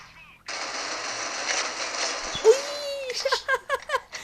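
Gunfire in a ranked Defuse-mode shooter video game, a dense continuous burst of automatic fire followed by several sharper separate shots, with game sound effects and a tonal swoop mixed in.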